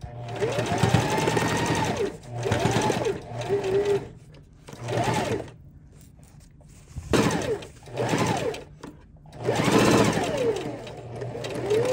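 A sewing machine stitches a costume skirt in several loud, close bursts of rapid mechanical whirring, running forwards, reversing and going forwards again, with quiet pauses between runs.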